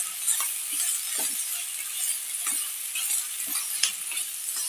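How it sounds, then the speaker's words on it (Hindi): Shredded cabbage stir-fried over high heat for veg chow mein, a bright, steady hiss of frying with scattered light clinks and scrapes of a spatula against the pan, close and without talk. "अब इसमें डालेंगे गरम गल्ला यानी कैबेज, इसे भी अच्छे से चलाएंगे।"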